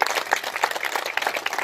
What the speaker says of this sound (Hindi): इनका धन्यवाद एक बार ताली बजाकर